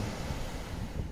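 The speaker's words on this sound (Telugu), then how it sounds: "అలల శబ్దం వినిపిస్తుంది" Ocean waves washing onto a sandy shore make a steady, soft broadband roar with a breezy wind-like hiss throughout, distant and even, with no voices.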